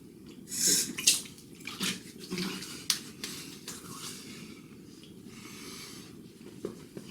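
Quick bursts of running water splash and trickle as a Leaf Razor is rinsed during a shave, a few close, uneven spurts with faint dripping between them and no speech.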